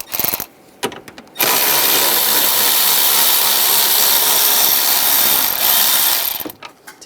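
A power tool spins bolts out of the coolant fan assembly on a Ram 1500, with a loud continuous whirring run of about five seconds. Short bursts and clatter come before it, and a few more come after.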